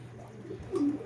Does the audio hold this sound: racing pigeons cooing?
yes